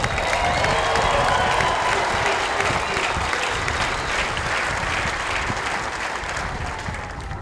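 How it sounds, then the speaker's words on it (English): Large audience applauding graduating Guardians and Airmen at a US Air Force and Space Force basic military training graduation ceremony, a dense steady roar of clapping with faint cheers that tapers slightly toward the end. "Give them a round of applause."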